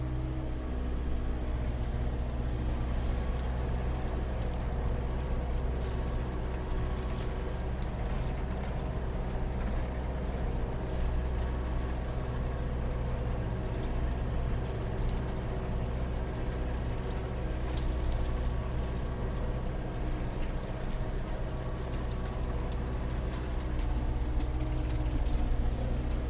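A tractor runs steadily under load, driving a DTZ FN-1.8 m rotary tiller through overgrown virgin land, with a continuous low engine drone and churning mechanical rumble throughout, close and loud with no talk.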